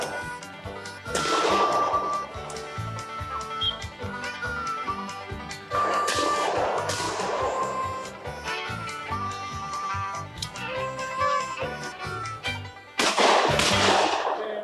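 Shotguns fire at a mountaintop sporting clays competition, with several loud, sharp reports spaced a few seconds apart, each trailing off over a background of music.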